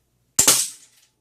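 An 80 lb Cobra pistol crossbow looses a bolt with a single sharp, loud snap followed by a short rattling decay, close by and otherwise quiet.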